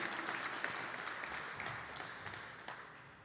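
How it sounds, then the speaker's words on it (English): Audience applause at a university graduation celebration, a steady dense wash of many hands clapping from a sizable crowd, fairly even throughout and slowly tapering toward the end. "Yes, please applaud."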